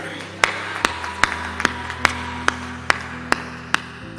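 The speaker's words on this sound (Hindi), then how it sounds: "जो सुनना चाहते हैं ताली बजाइए।" Audience at a Hindi poetry recital clapping in slow, evenly spaced single claps, roughly ten sharp hits over a steady hum of the hall, fairly close and moderate in level.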